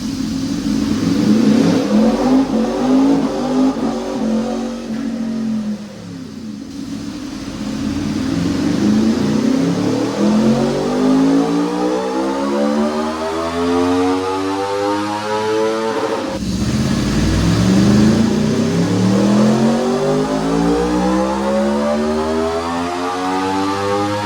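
A 2026 Aprilia Tuono V4 motorcycle on a dyno, fitted with aftermarket velocity stacks, revs hard through repeated sweeping climbs, its engine note rising and falling loudly and continuously with no talk.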